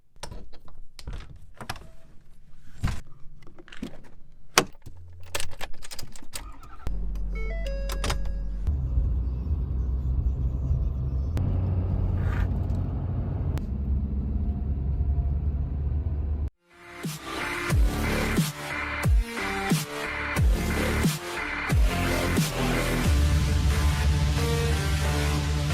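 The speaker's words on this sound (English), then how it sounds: "So let's jump in the truck." Climbing into a truck on a dark, cold morning: a series of clicks, thunks and a door closing, then the engine idles steadily and revs up into a louder drive after a brief dropout.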